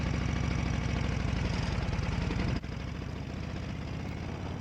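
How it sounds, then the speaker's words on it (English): A Harley motorcycle with a jockey hand shift and foot clutch idles with a loud, close, lumpy rumble, then a sudden drop in level as it clunks into first gear and pulls away, its engine droning on. "I rock my heel, shift into first gear, roll my toe forward, feather the throttle, and roll out into motion."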